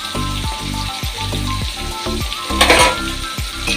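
Cashews and green chillies fry for shahi paneer, a loud steady sizzle broken by rhythmic scrapes and stirs of a spoon against the pan, with a brief louder hiss near the end.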